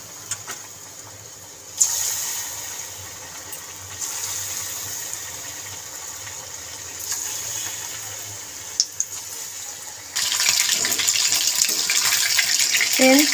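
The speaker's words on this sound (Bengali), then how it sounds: "এবার আমি মাংসগুলোকে দিয়ে দেবো তেলের মধ্যে।" Chicken pakora pieces fry in hot oil in a wok over a wood-fired stove, a steady hissing sizzle that swells louder near the end, with a few clatters and no talk.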